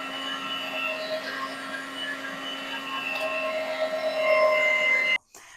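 A meat grinder runs steadily as it grinds garden vegetables for marinara, a constant loud motor whine and whir that builds slightly, then cuts off abruptly near the end, with no voices.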